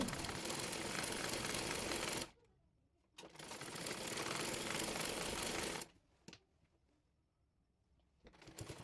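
A sewing machine stitches a child's fatua, running in two long continuous bursts with a sharp stop and a short pause between, then a brief start near the end, close and alone.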